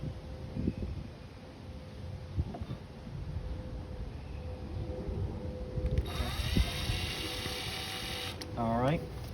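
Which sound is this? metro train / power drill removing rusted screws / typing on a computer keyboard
power drill removing rusted screws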